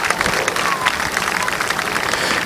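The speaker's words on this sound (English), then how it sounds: "Please give them folks a round of applause for keeping us safe." Crowd at a speedway event applauds veterans and frontline workers, dense clapping with scattered cheers spread across the stands, loud and continuous with a faint murmur of voices mixed in.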